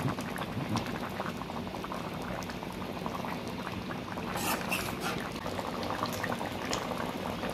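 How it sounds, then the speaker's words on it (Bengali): Jackfruit and prawn curry gravy with potatoes bubbles in a pot, a continuous close simmering burble of popping bubbles with a few brighter splashy bursts midway. "ঝোল ফুটে গেছে আর আমার আলুগুলোও সিদ্ধ হয়ে গেছে"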